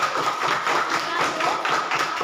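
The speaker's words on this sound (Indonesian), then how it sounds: "Tepuk tangan dulu buat sikap" A classroom of people claps together in a dense, steady burst of applause for a couple of seconds, close and fairly loud.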